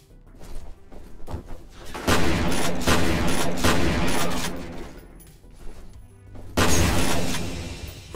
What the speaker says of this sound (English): I think one of those shots gave away my position.